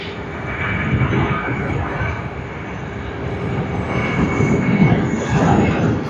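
A Qantas airliner on the Alice Springs service rumbles at Sydney Airport, giving a steady, fairly loud engine drone with a faint whine that swells slightly toward the end, heard from some distance without talk.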